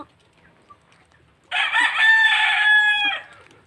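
A caged rooster gives one loud, clear crow lasting about a second and a half, close by, after near silence with faint background sounds.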